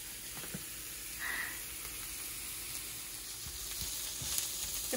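Onions fry and caramelize in a pan with a quiet, even sizzle and a faint, light crackle, plus a few soft knocks from stirring, all at low volume.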